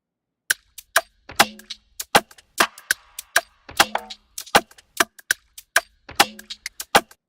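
Sharp, dry percussive hits in an irregular pattern, some with a short tonal ring, played alone with silence between strikes.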